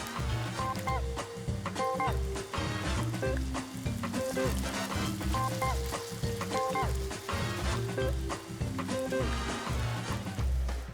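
Georgian cornbread (chadi) frying in oil crackles and sizzles steadily and close up, with a busy popping texture and faint rhythmic clinks throughout, no voices.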